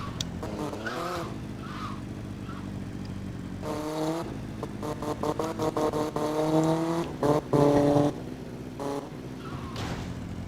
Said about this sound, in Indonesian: Ih, ada motor lagi tuh.